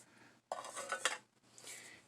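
Metal dishes of a Boy Scout mess kit (frying pan, plate, lidded pot) clink and rattle in two short bursts of handling, close and fairly quiet, with a brief pause between.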